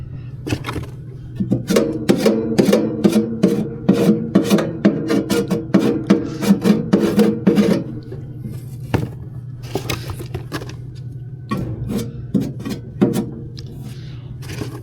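Old gasket being scraped off a furnace inducer motor, a run of dense rasping, scratchy strokes over a steady mechanical hum, busiest early on, then sparser scrapes toward the end; no talking.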